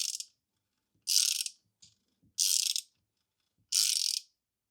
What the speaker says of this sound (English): rotating the crankshaft